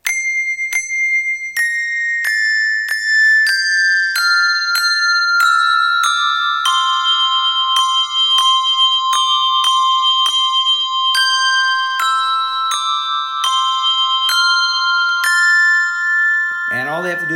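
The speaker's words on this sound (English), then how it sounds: "So I could actually run a handbell choir by using my iPad." Handbell tones from an iPad handbell app play a slow descending melody, one clear ringing strike after another with long sustained overtones, ending in a brief shimmering flourish.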